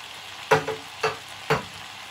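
Mixed vegetables and crispy pork stir-frying in a pan, with three sharp sizzling bursts at roughly half-second intervals, close and moderately loud over a low background hiss as fish sauce hits the hot pan.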